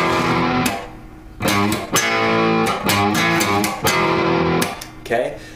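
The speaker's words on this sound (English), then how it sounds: "And you put a little distortion on the old amplifier and you're in rock territory already." Distorted electric guitar through an overdriven amplifier chugging a power-chord riff, loud sustained chords in bursts separated by sharp stops and short gaps.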